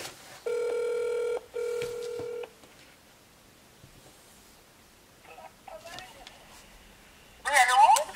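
A phone call is placed: two long, even ringback tones sound one after the other, then a stretch of faint handling noises, and a brief burst of voice or line sound comes at the end.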